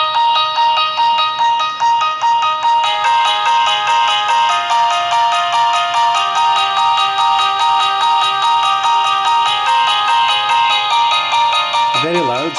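A phone ringtone plays loud and bright through the Soyes S7 Mini Android phone's loudspeaker, a repeating melodic pattern that continues for the whole stretch without pause.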